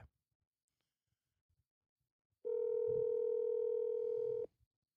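A steady telephone dial tone sounds for about two seconds while a call is being placed, clear and alone after a quiet stretch, then cuts off abruptly.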